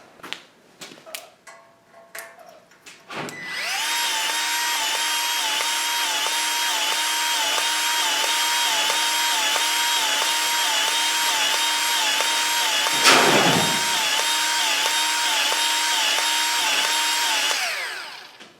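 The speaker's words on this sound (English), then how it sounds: "Let me throw some grease in the grease fittings" Grease is pumped into the fittings of a 50-inch root grapple with a battery grease gun: a loud, sustained, high-pitched motor whine with a steady pulsing pattern runs close by for about fourteen seconds after some brief handling clatter.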